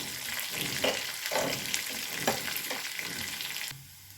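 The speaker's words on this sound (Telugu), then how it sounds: "రెండు ఎండుమిర్చిని కూడా వేసేసుకొని ఇవన్నీ ఆయిల్లో లైట్ బ్రౌన్ కలర్ వచ్చేంత వరకు ఫ్రై చేసుకోవాలి" Crushed garlic and two dried red chillies fry in oil for a tempering meant for a homemade peanut rasam, giving a steady close sizzle. Several scraping stirs sound through it before the frying noise cuts off abruptly near the end.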